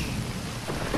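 A brief burst of cartoon rain with a deep rumble of thunder underneath, steady and fairly loud.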